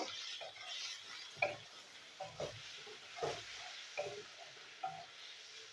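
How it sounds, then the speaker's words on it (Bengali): Potato pieces with turmeric fry in a pan, giving a soft continuous sizzle broken by a series of light scraping stirs at fairly even intervals, close and quiet. "আলুটাকে আমি ভেজে নেবো।"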